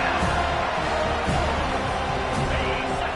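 Home crowd at a Florida State football scrimmage roars in a steady, dense wash of cheering and noise across the stadium, sustained and loud throughout.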